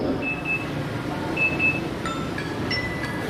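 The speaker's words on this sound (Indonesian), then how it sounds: "ini alarm kegiatan pondok" An electronic activity alarm at an Islamic boarding school gives a series of short beeps and tones, sparse at first then clustering toward the end, moderately faint over a steady background hum.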